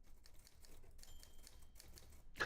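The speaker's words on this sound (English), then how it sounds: "right now on a good old manual typewriter" Keys clack on an Olympia manual typewriter in a run of quiet, irregular strikes, ending in a sharper louder snap near the end, with no voices.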